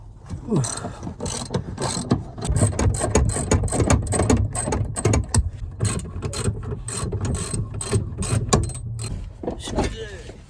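A hand ratchet turns out the rear seat bolts of a single-cab truck during an interior swap, giving repeated close rapid clicking bursts with short pauses and some handling noise.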